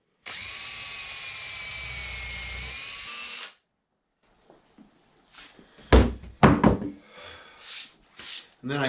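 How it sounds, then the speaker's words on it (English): Power drill pre-drilling countersunk screw holes in scrap wood, one steady whine for about three seconds, then quiet followed by several close knocks and thunks. "I'm going to pre-drill 2 holes with countersinks for a couple of screws."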